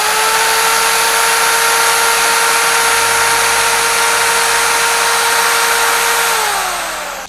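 A corded 450-watt electric drill runs at 2600 RPM with a loud, steady, high-pitched whine close by, holding an even tone before slowing down at the end.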